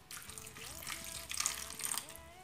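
Water poured into a pan for a strawberry jelly topping, a short gushing, splashing stream that swells and ebbs in a kitchen, fairly quiet.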